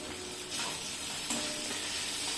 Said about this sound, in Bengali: আদাটা একটু ভেজে নিচ্ছেন মা